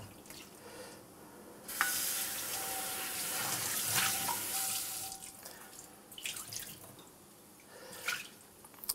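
Tap water runs steadily into a sink as a HexClad 10-inch hybrid pan, just used for high-heat steak searing, is scrubbed clean, with splashing and scraping bursts that ease off into lighter drips and swishes.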